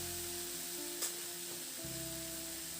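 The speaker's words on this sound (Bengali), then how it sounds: "এবার টমেটো দিয়ে মিনিট 2-3 মতো একটু নাড়াচাড়া করে নিলাম ভেন্ডি আলুর সঙ্গে।" Okra, potatoes and tomato frying in a pan, a quiet, steady sizzle with a single faint clink of stirring partway through, no talking.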